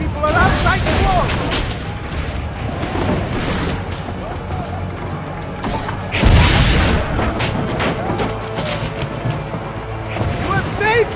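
Cannon fire booms in Assassin's Creed Brotherhood, heavy blasts and rumbling impacts during a siege on a town wall, with a louder boom partway through and character dialogue over the battle noise.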